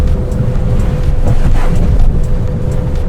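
Cabin noise inside an Elwinn Nex electric car crossing a badly potholed road: a steady, loud low rumble with repeated thumps and jolts from the suspension, and no voices.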